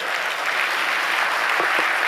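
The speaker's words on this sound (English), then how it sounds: "can the applause be made resounding for His Excellency Uhuru Kenyatta" An audience applauds at a Democracy Day dialogue event in Nigeria, a loud, dense, sustained clapping from a large crowd heard alone.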